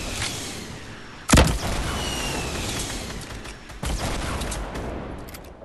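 Rockets fire in an online duos shooter, two loud blasts about two and a half seconds apart over a continuous rumble of gunfire and battle noise.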